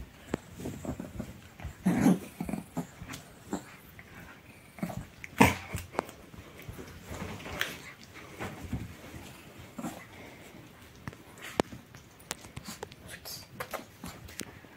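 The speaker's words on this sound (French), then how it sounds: "Il fait des grognements de jeu." A dog lets out low, playful growls in short intermittent bursts, with shuffling and scuffling nearby and occasional quiet voices.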